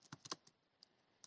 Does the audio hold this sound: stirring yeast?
no